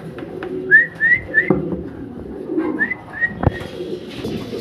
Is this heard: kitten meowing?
no